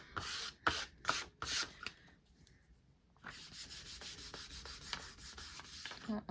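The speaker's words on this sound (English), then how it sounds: "We're going to use a card to burnish it down" A card is rubbed firmly back and forth to burnish down freshly glued material on a Dollar Tree craft remake, making repeated scratchy rubbing strokes, bursty at first, a brief pause, then a steady run of close strokes.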